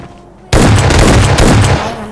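An S12K shotgun fires in PUBG Mobile Lite, one sudden loud blast that breaks from near-silence into a dense booming roar lasting over a second before it fades slightly.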